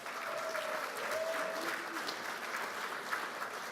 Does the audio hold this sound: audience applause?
yes